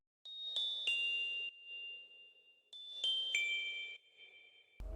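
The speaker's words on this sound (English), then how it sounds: "we added some twinkle bells towards the middle of the song." Twinkling bell tones in a theme song, two bright chiming phrases with sustained ringing notes that sound alone, clean and close, followed by a brief low thump at the very end.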